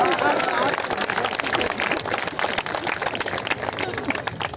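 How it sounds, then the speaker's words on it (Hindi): Audience applause at a comic poetry recital fills the whole stretch, a dense steady wash of many hands clapping at close range with crowd murmur mixed in. "ताली बजाओ"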